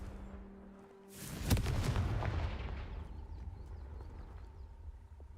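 Confringo fire spell cast in the video game Hogwarts Legacy, a sudden booming blast with a crackling burst that fades into a low rumbling tail, loud and close.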